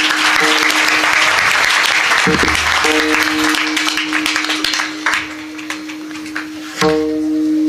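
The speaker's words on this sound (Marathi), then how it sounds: "सगळ्यांसाठी एकदा चांगल्या जोरदार टाळ्या वाजवा" Loud, steady applause from an audience at a kirtan fills the space, then thins into scattered claps with a sustained musical drone and a few sharper hits underneath.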